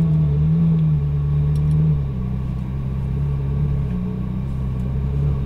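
A Ferrari 458 Italia on light throttle, easing over a stop at low speed: a steady, close engine rumble with a slight dip as revs drop, no talk.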